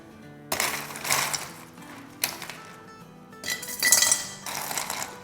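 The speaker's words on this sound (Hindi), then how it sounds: "तो सबसे पहले हम डालेंगे आइस।" Ice cubes clatter and clink into a glass while a chilled summer sharbat drink is assembled, several loud bursts of rattling impacts close by with short pauses between, no talking.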